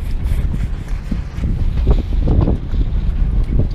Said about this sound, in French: Là, on doit avoir dans les 25 nœuds de vent.